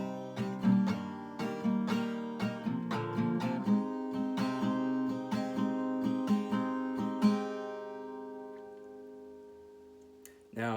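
An acoustic guitar strums the verse chord progression of a song, a run of rhythmic, closely miked strums that ends on a ringing, slowly fading chord.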